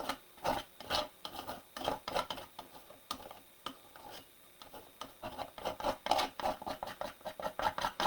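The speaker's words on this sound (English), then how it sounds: "with the palette knife, you can do these scratches" A palette knife scratches through layers of paint in an art journal, giving a series of short, rasping scrapes in an uneven rhythm, close and fairly quiet, with no voices.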